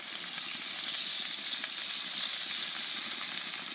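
Oil heating in a cast iron skillet gives a steady, close sizzling hiss that stays even for the whole stretch, with no voices.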